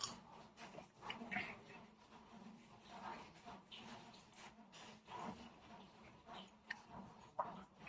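Several cats meow faintly and intermittently in a quiet morning setting around feeding time, with soft, scattered calls over low background noise.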